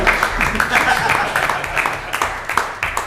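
Scattered clapping from a small comedy club audience at the Ponti as a stand-up's set closes. A handful of distinct claps land irregularly, with a voice talking over them.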